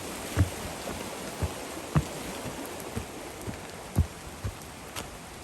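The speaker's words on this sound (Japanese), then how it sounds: "雨はね、どんどん強くなってくるみたいですけどね" Rain falls at a campsite in Kobe, a soft steady patter with scattered louder drips and taps landing every second or so, heard alone at a moderate distance.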